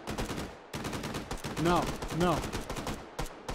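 Gunfire from computer-controlled bots in the VR shooter Hot Dogs, Horseshoes & Hand Grenades, sharp repeated shots crackling through the clip, partly under someone talking.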